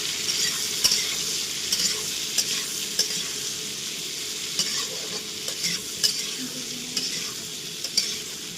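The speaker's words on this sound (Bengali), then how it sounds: "ভালো করে সবজিটাকে ভেজে নিই।" Vegetables frying in a pan for a mutton recipe: a loud, continuous hiss with a spoon scraping and clicking against the pan at intervals, close up, with no voices.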